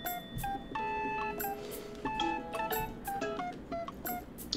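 Telephone keypad tones beep in quick irregular bursts during a phone call on a Korean livestream, several short dialing beeps over a low background.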